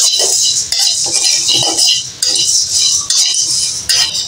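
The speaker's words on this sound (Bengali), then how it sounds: "এই যে এখন আমরা চাল ভেজে নিচ্ছি।" Rice fries in a pan for spicy pulao while a spoon stirs it, giving a loud, steady sizzling hiss broken by repeated metallic scrapes and clinks against the pan.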